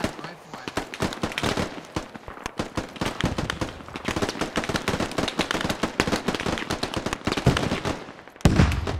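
Gunfire in the tactical shooter game Squad on a Fallujah map during a USMC-themed fitness test: dense, rapid automatic bursts and single shots crackling loudly and almost without pause.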